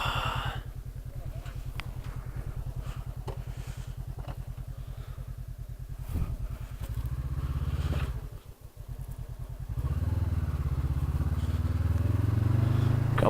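Motorcycles, a couple of BMWs, a KTM and a Ducati, on Atigun Pass, with a steady, throbbing engine thrum close by that dips briefly and then grows louder.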